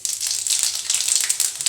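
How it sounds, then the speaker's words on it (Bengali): Five-spice seeds (panch phoron) crackle and sizzle in hot oil in a kadai, a close, steady hiss with small popping ticks throughout, as Bengali kul achar is being made. "তেলটা গরম হয়ে গেছে, এবার আমি তেলের মধ্যে 5 ফোড়নটা দিয়ে দেব"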